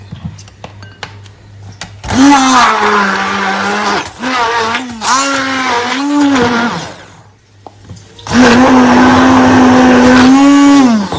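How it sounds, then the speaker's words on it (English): A kitchen blender grinds pepper and fresh tomatoes, whirring loudly in three long bursts with pitch shifts as the chunky mix churns, separated by short pauses. "I'll go in with my pepper, fresh tomatoes, and then blend"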